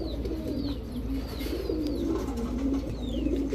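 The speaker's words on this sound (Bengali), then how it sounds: "এই হচ্ছে আরেকটা জোড়া কবুতর" Pigeons of the Giribaz and Palla strains coo in low, continuous rolling phrases over a steady background hum, with faint higher chirps scattered throughout.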